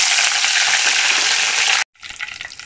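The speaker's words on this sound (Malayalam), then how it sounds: "ഇതിനകത്തോട്ട് നമുക്ക് കറിവേപ്പില ഇട്ട് കൊടുക്കാം" Curry leaves dropped into hot oil with mustard seeds and fenugreek for a homemade lemon pickle, a loud steady sizzle that cuts out briefly, then resumes crackling.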